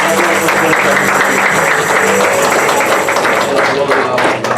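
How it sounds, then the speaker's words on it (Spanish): A church congregation applauds loudly and continuously through the whole stretch, a dense wash of clapping with voices mixed in, close and full. "Un aplauso fuerte a Cristo"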